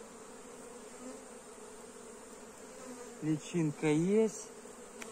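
Steady, dense buzzing of many honeybees at an apiary during hive work, with a voice briefly speaking near the end.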